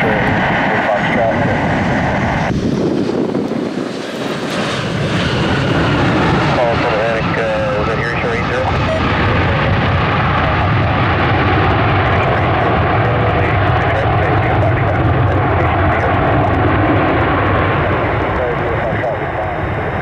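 An American Airlines airliner in special livery, inbound from Dallas, Texas, arriving at Cleveland Hopkins airport: a steady loud engine roar sustained throughout, with an announcer speaking over it.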